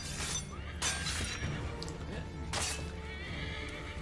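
A horse in the video game Assassin's Creed III gives a loud whinny, with a crashing, shattering burst partway through and game sounds continuing throughout.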